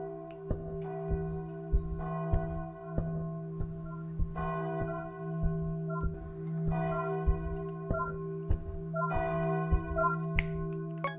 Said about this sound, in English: Maybe they are enchanted by the sound of the church bells.